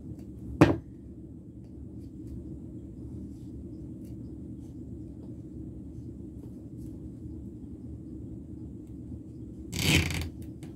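Tape is pulled off a roll in two short, sharp rips, one near the start and a longer one near the end, heard over a low, steady background hum.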